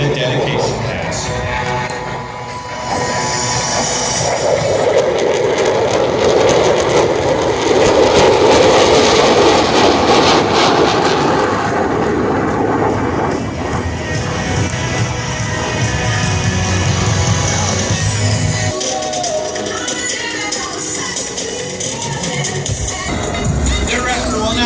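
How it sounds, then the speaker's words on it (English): An F-22 Raptor's engine roars loudly and continuously as it makes a dedication pass overhead at an air show, the sound swelling and shifting before easing slightly. "The F-22 Raptor proudly presents the dedication pass."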